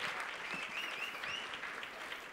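Applause from a congregation at a Christian deliverance ministry service, with steady crowd clapping filling the moment at moderate loudness, a few faint voices or cries mixed in.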